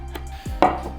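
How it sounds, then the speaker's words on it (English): A knife slicing through the green tops of a bunch of spring onions on a board, a few quick close chops with a louder cut near the end. "slice up the green parts of a bunch of spring onions"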